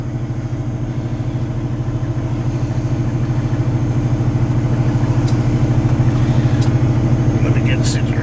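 A Cummins diesel truck engine idles through a stationary regen, a steady, loud, low rumble that swells slightly over several seconds, with faint clicks high above the drone.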